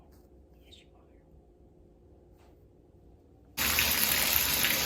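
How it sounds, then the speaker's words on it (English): Quiet room tone with a faint whisper gives way to a sudden loud, steady gush of warm tap water running into a sink to bathe a chicken, continuing to the end. "So I have the water going."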